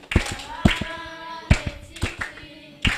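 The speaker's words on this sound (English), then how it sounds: "I don't like the way people are clapping" Scattered group clapping along to a song at an Igbo summer camp. Several loud, uneven bursts of claps come in separate clusters with pauses between them, close and sharp, and no one speaks.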